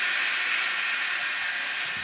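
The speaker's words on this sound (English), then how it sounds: "there's the train, engine 90" Steam locomotive engine 90 on a Christmas excursion gives off a steady, loud, broad hiss of escaping steam that holds evenly from start to finish, with no voices over it.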